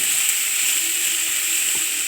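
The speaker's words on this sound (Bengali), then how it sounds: "ভালো করে নেড়ে ছেড়ে নেব।" Spiced cabbage filling for paratha, seasoned with salt, turmeric, cumin and chili powder, sizzles steadily in a frying pan. A close, even hiss continues throughout with faint scraping from stirring.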